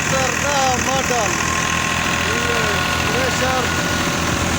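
A tractor engine idles in a steady, loud, continuous rumble with a mid-pitched drone and a faint knocking vibration, alongside some chirping in the background.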